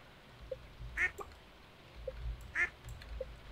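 A void chicken in Stardew Valley gives short clucks, two sharper calls about a second and a half apart with softer blips between, fairly faint over a low hum.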